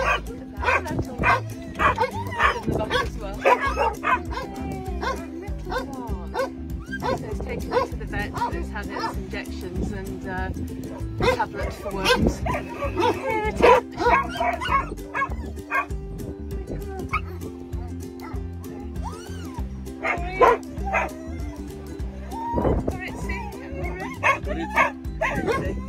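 Small dog found in the road, barking and yipping repeatedly in short bursts with occasional whimpers, close and loud against steady background noise.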